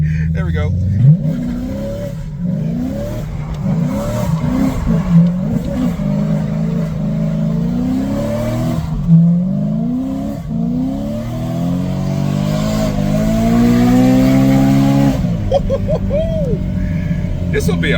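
A BMW M3 drives and accelerates, its engine note rising and falling through repeated revving sweeps and gear changes, loud and steady throughout, with someone speaking over it.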